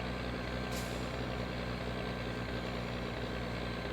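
Truck engine in the game My Winter Car running on auto throttle, a steady, loud droning rumble with a sustained low hum and a brief hiss, no voices over it.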